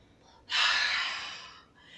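One deep, forceful breath drawn in through the nose as part of a Kung Fu breathing exercise, rising sharply, then slowly fading over about a second, close and alone.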